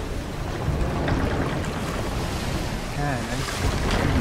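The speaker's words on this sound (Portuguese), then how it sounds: "eu tô correndo aqui pra tirar água, a gente tá afundando" Stormy sea water surges and splashes around a sinking ship in the pirate game Sea of Thieves, a loud, constant wash of waves with wind and creaking close by.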